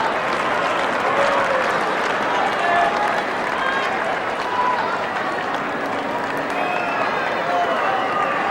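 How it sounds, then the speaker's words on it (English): A tennis crowd at the Indian Wells 2002 semifinal boos and whistles at the line judge after a call on the line. The noise is a steady, dense roar of voices with scattered whistles throughout, and it does not let up. "There's no good booing and whistling at the line judge."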